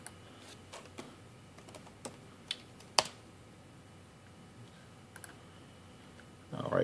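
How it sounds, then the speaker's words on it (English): A handful of faint, scattered key clicks from a computer keyboard, tapped irregularly in a quiet room, with a louder rustle at the very end. "Let me type in done."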